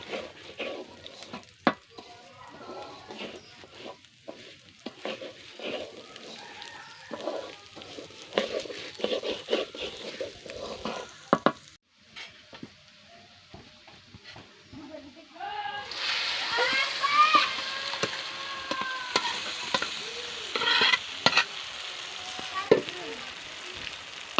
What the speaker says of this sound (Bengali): আমি আস্তে আস্তে পোলাও চালগুলি একদম ভাজা ভাজা করে নেব